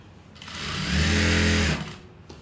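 Sewing machine running a short stitching burst along a kameez shoulder seam, whirring up to a steady hum for about a second and then stopping, close and clear with no talk.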